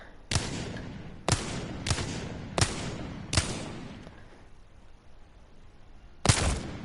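Six sharp, echoing gunshots in the game Apex Legends, spaced about a second apart at first, then a pause before a final shot, each with a decaying tail.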